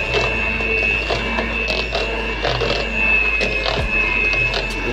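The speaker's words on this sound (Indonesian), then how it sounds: "Kita mixer dengan kecepatan rendah aja supaya dia tercampur." A mixer beats pandan sponge cake batter at low speed with a steady, loud whirring drone and a constant motor whine, running without pause and with no speech.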